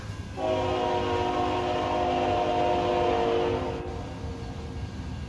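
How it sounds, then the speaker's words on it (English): A train in American Truck Simulator blows its horn in a sustained multi-tone blast lasting about three seconds over a steady low rumble of the passing train and the engine. "just as the train's coming by"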